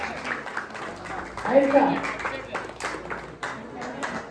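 An audience at a Shri Satyanarayan Mahapuja gathering in Kotwade, Ratnagiri, breaks into scattered clapping that swells and fades, mixed with someone speaking over a microphone.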